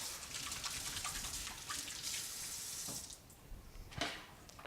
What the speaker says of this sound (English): Burger, wash your hands first.